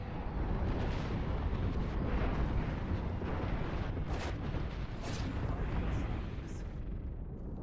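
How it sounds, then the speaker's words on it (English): Airstrike explosions in the video game Apex Legends, a dense rumbling barrage of booms and blasts that carries on loudly for the whole stretch, with sharper bursts cutting through near the middle. "Signaling an airstrike."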